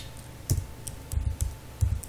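C code typed on a computer keyboard in Turbo C: scattered, close keystroke clicks in uneven clusters with no voices.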